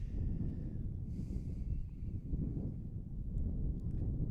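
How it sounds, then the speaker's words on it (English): Wind buffets the microphone at an outdoor high school baseball game on a windy, sunny 76-degree afternoon, a steady low rumble throughout with faint higher sounds above it. "76 degrees and windy and sunny here on this Monday afternoon"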